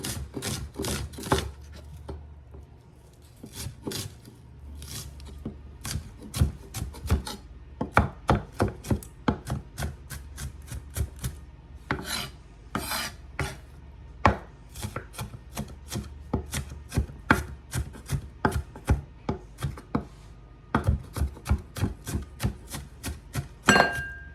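An onion being diced with a knife on a cutting board, with rapid close chopping taps in bursts and short pauses, crisp and fairly loud, no talking.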